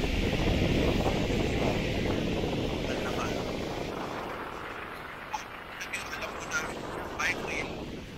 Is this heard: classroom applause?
no